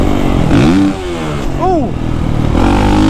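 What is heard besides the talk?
Kawasaki KX450SR dirt bike accelerating hard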